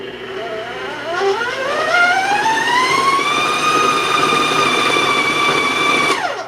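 A high-pitched electric mixer motor on high speed ramps up steadily in pitch and then holds a loud, sustained tone before cutting off abruptly.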